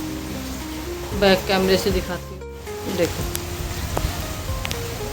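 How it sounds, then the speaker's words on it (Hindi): Steady hiss of heavy monsoon rain pouring over a flooded street, a constant wash of sound beneath someone talking close by. "और सुबह से ही ये झमाझम वाली बारिश हो रही है।"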